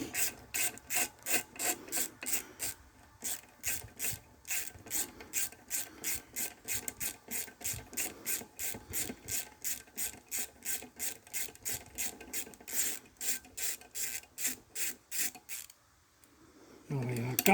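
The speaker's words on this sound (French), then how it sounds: "on dévisse les vis." Screws being unscrewed while a washing machine motor is dismantled, a steady, fast rhythmic ratcheting rasp repeating dozens of times up close, then a brief pause and a thump at the end.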